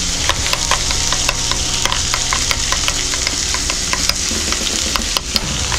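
Sriracha being stirred into a burger sauce mixture in a bowl, a steady scraping swish with many quick close clicks and taps of the utensil against the bowl, continuous and fairly loud with no talking.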